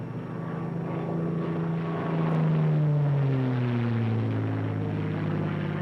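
A World War II P-51 Mustang fighter dives, its propeller engine roaring loud and steady while the drone glides downward in pitch as speed builds.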